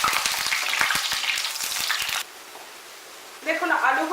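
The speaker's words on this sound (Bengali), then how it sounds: "দেখুন তেলটা গরম হয়ে গেছে, আমি আলুগুলো এর মধ্যে দিয়ে দেব।" Potatoes fry in hot oil with a loud, dense sizzle close by, crackling with bursts of popping, then dropping briefly to a quieter hiss before the sizzle flares up again.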